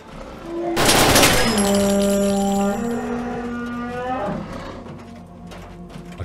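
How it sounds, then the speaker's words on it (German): Creatures in a modded Fallout 4 game bellow with loud, drawn-out cow-like moos that slide downward in pitch, layered and close after a sharp burst of noise, with no talking over them. "Ihr hört sich an wie Kühe."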